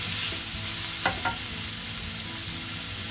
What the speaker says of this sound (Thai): ผัดไปเรื่อยๆนะคะ